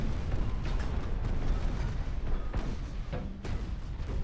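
Naval guns firing in the warship game Ultimate Admiral: Dreadnoughts, a dense rumbling barrage of low booms layered over one another, loud and continuous, with a few sharper reports standing out.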